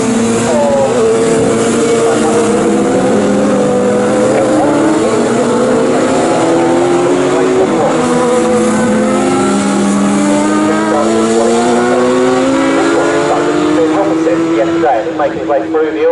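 Sports 1000 race cars lapping Snetterton circuit, a loud continuous engine drone with rising and falling revs as cars pass close, running under steady race commentary throughout.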